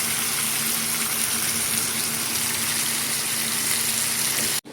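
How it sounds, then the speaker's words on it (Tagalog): Pork belly sautéed with garlic and onion for sinampalukan sizzles in a steady, loud, continuous hiss that cuts off abruptly at the end, with no talking. "Patuloy pa rin natin igisa."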